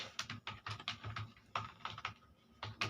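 Keystrokes on a computer keyboard as a company name is typed into an Excel spreadsheet, coming in quick bursts of several clicks with short pauses between them, close and fairly quiet, with no voices.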